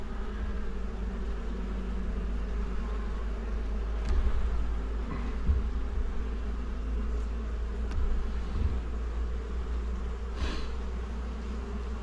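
Honeybees buzz in a steady, dense drone around an opened hive that came out of winter strong, close and continuous with a few louder passes near the listener.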